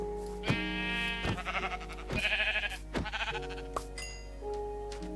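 Sheep in a Minecraft game bleat several times in short, quavering calls, loud and close, separated by brief pauses over a steady low hum, with no one speaking.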